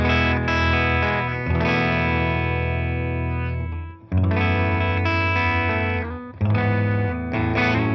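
A clean electric guitar played through a modded 1x12 amp, close-miked with an SM57 aimed at the cone, rings out in three loud, sustained strummed chords separated by brief dips.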